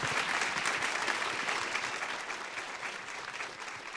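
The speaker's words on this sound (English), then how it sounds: "Let's give them a round of applause." Audience applause for conference panelists, a dense and steady wash of many hands clapping throughout, loud at first and easing slightly toward the end.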